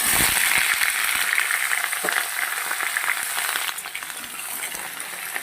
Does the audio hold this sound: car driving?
no